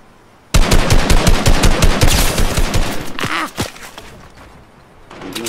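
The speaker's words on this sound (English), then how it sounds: "I'm being shot at." Loud, close machine-gun fire in Fortnite Battle Royale bursts in suddenly as a rapid stream of shots, then thins into a few thuds and quieter sounds.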